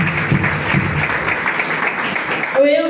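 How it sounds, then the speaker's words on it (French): A church congregation claps in acclaim for the Holy Father, a steady wash of applause under talk that continues throughout and gives way to a singing voice at the end. "On acclame le Saint-Père."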